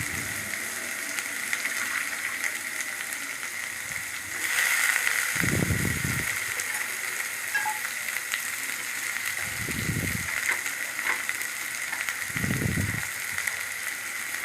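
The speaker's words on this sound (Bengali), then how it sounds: "ভালো করে একটু নাড়াচাড়া করে নিতে হবে সবগুলো একসঙ্গে মিশিয়ে ভেজে নিতে হবে" Chopped tomato, onion, garlic and chili sizzle and fry steadily in a pan for chicken keema chana masala, with a louder crackle from about four seconds and three short bursts of stirring or scraping, and no talk.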